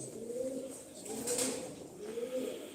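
Sivas pigeons coo in soft, rolling, repeated calls, close and steady with a faint airy background and no voices.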